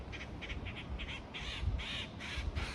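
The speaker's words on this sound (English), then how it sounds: "At least some birds are busy." Several crows caw in a steady series of harsh calls outdoors in a garden, with wind rumbling on the microphone underneath; the calls grow longer and louder toward the end.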